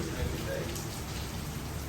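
Heavy rain from Hurricane Ian pours down outside a hotel lobby in Orlando as a dense, steady hiss that fills the whole short stretch.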